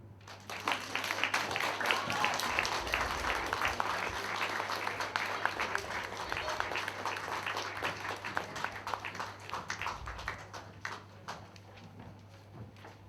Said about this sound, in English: They do deserve another big round of applause.